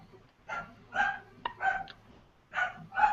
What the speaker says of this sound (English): My dog. She's freaking out.